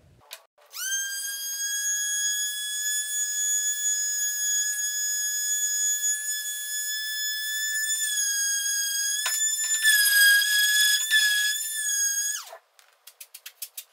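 A power sander works wood with 120-grit paper, giving a steady, loud whining tone that starts up, holds for about twelve seconds with a slight wobble near the end, then cuts off, followed by a few light clicks.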